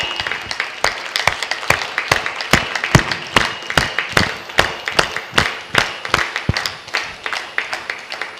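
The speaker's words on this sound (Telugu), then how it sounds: "ఒకసారి గట్టిగా చప్పట్లు కొట్టండి. నేను కట్ చెప్పే వరకు కొట్టండి గట్టిగా." A crowd claps loudly in sharp, fast, regular bursts that keep going steadily throughout, with no talking over it.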